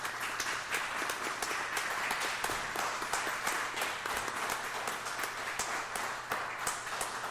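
Applause from the audience at a North Carolina tariff town hall for the panelists: continuous, evenly dense clapping from a roomful of people, moderately distant, with no voices over it.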